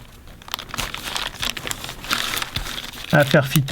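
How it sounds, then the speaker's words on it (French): Masking tape crinkles and tears as it is pressed onto a ripstop canopy sail, with close, irregular crackling rustles and a few sharp rips, while a voice talks briefly near the end. "je vais placer mon masking tape"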